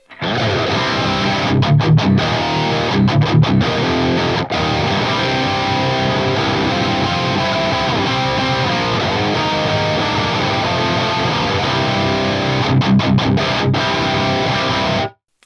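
Heavily distorted electric guitar through an Axe-Fx III amp modeler with an 800 Hz EQ boost plays sustained chords and riffs with a thick, saturated tone, loud and steady, a few choppy muted stops.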